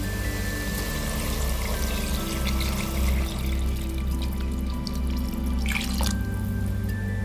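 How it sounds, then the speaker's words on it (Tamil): Water runs steadily into a pressure cooker while making mint rice, a continuous splashing pour with a low hum underneath, close and unbroken throughout. "தண்ணி சேர்த்துக்கலாம்"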